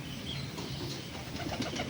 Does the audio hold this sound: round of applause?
no